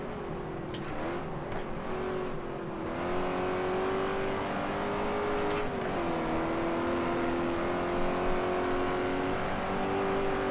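Racing game GT Legends with a rival race car close behind: a steady engine drone that rises and dips slightly with gear changes, continuous and moderately loud, with no voices.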